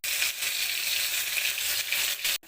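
Whole garam masala, dried chilies and bay leaves sizzle and crackle steadily in hot oil in a pan, a close, dense frying hiss that cuts off abruptly at the end.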